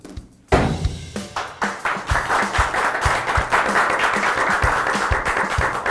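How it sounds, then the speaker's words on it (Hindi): Hand clapping breaks out abruptly and builds into a steady round of applause from several people, loud and close, continuing without speech over it. "ताली क्या बजा रहा है?"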